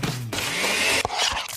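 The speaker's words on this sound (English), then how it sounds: "That's the sound of a smoothie bowl being made fresh" A loud blender making a smoothie bowl roars continuously for about a second, whirring at high speed, then stops and gives way to brief clattering and scraping.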